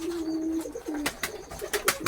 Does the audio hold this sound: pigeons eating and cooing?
yes